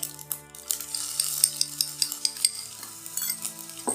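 Chopped ginger dropped into hot oil in a pan for a mango gravy, frying with a steady sizzle while a spoon stirs and clinks against the pan in light repeated taps, close up and without talk.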